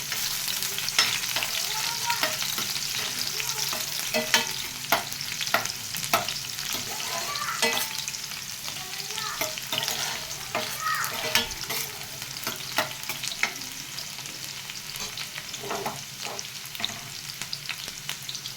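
Onions fry in a pan for a liver dish, with a continuous close sizzle broken by frequent sharp crackles and the scrape of stirring throughout, with no voices.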